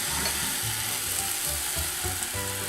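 Crepe batter frying in an overly hot pan gives a steady, close sizzle with faint scraping and stirring textures underneath, continuous throughout with no speech.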